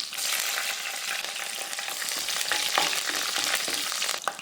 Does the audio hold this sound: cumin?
yes